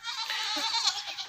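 A goat wearing decorative jewelry around its neck gives a steady, fairly loud bleat that lasts a little over a second, close by and alone.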